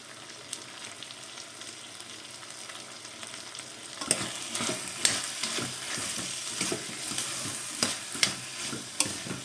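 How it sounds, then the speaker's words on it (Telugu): Spicy potato, tomato and drumstick curry gravy is stirred in a pan, quiet at first and then a steady sizzle with repeated spoon scrapes and clinks from about four seconds on, close and alone with no talk. "ఇది గ్రేవీ, ఇది మొత్తం కూడా అంతా కలిసే వరకు కలుపుకోవాలి."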